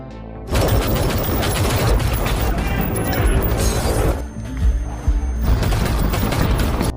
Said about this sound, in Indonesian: kelompok Mendoza malah disambut dengan tembakan beruntun dari kelompok gangster tersebut